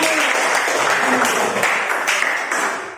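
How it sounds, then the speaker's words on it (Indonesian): Classroom applause after a group presentation, close and fairly loud clapping from a small group that fades slightly toward the end. "Tepuk tangan."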